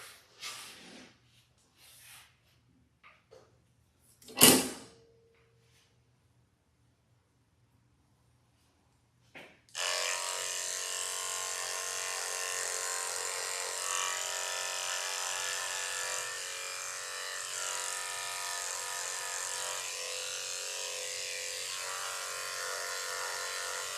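Electric clippers trimming a King Charles Cavalier dog during grooming, starting after a few scattered handling knocks and then running as a steady, close, continuous buzz for the rest of the clip.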